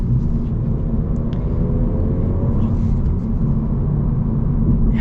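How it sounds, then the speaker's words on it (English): A 2026 Honda Civic Si four-cylinder engine under way, a steady, loud low drone with road rumble and a faint rising tone through the middle. "It sounds pretty cool too. Still a 4-cylinder, so it's not crazy with the sound."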